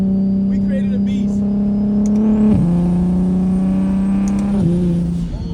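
BMW 335is on the road, its engine holding a steady loud drone with two distinct shift dips as revs drop and climb again, occupants' voices faint underneath.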